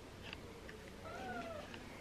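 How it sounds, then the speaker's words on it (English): Cats shut in a room during a wedding day give a single faint, muffled meow, distant and barely above a steady background hiss. "Cats are locked in here for..."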